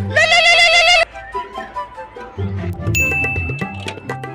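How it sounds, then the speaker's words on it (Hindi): A phone rings in a comic school classroom scene: a bright, chiming ringtone sounds for about a second, followed by voices talking and a brief higher electronic tone. "फोन आ रहा है।"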